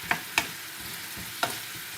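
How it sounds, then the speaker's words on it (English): Honey-glazed carrots cook and get pushed around a pan, with three sharp stir scrapes over a steady low sizzle, close and fairly quiet, no voices. "as they cook, just keep moving them around in pan"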